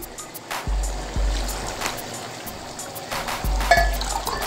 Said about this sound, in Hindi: ये मैं अंदर पानी ऐड कर रही हूँ। ये वही पानी है जिसमें मैंने चने बॉईल किए थे